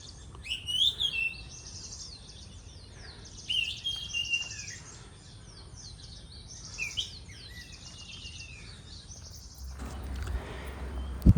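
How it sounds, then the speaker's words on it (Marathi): Birds chirping near a monsoon waterfall outside Badlapur, Maharashtra, with repeated short bright calls in several bursts over a soft constant background hiss, ending in a low rumble and a thump. "पक्ष्यांचा आवाज कडून तर येतोय."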